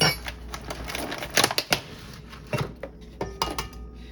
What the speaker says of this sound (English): And now we're gonna add 5 eggs.